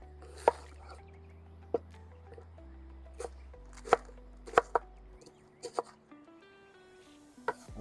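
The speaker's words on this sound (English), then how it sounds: "let's get chopping with 2 onions" A knife chops onions on a cutting board in irregular sharp taps, close and clear, with quiet gaps between strikes and no talking.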